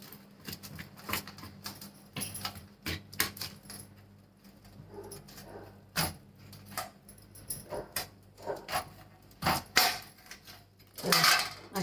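A bitter gourd being sliced in half lengthwise with a knife on a board, giving a string of sharp taps and clicks at an irregular pace, close and fairly loud, with no talking.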